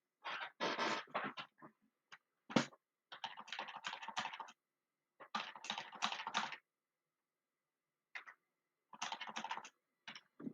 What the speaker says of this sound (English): let me go ahead and type this in